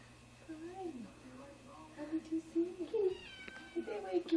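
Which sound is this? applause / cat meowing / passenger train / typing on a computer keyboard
cat meowing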